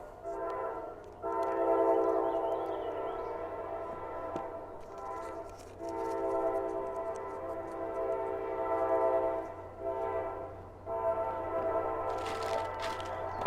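A train passing near a camping spot, a long sustained horn blowing in several drawn-out blasts with short gaps, fairly loud and somewhat distant, over low rumbling.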